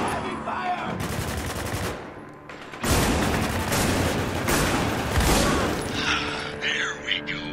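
Sustained automatic gunfire from the Spec Ops: The Line video game, loud and dense, with rapid bursts that drop briefly near the two-second mark before resuming, mixed with game sounds and voices underneath.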